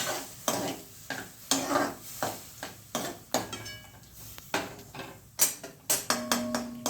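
Fried sweet potato is stirred with full-cream milk in a pan for sweet potato kheer, with a spoon scraping and clinking in a steady, irregular rhythm of close, distinct strokes over a faint sizzle.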